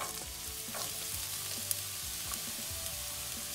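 Onions dropped into two tablespoons of hot olive oil in a pan, a steady close frying sizzle with light stirring clicks and a brief sharp tick.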